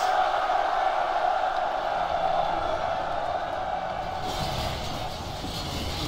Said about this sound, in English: Now cheer, you noblest of men, and sound the advance!